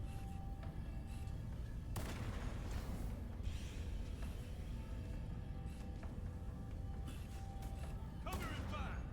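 Sniper rifle shots in a Halo game, a couple of sharp booming reports spaced several seconds apart over a continuous rumble of battle noise, with people talking throughout.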